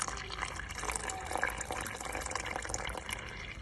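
Water runs into a pot holding gourds, a soft, steady trickling and filling sound close by that continues throughout at a fairly low level.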